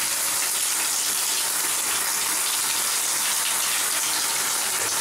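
Hot water runs steadily into a bathtub being filled for a hot bath, a continuous close hiss and gush that holds even for the whole stretch with no voices over it.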